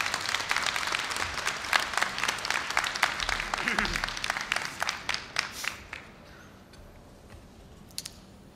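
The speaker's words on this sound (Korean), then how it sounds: "뜨거운 박수로 우리 선배님을 환영해 주시기 바랍니다." A graduation ceremony audience gives warm applause to welcome a speaker. Many hands clap at once, then the clapping thins out to a few scattered claps and fades away.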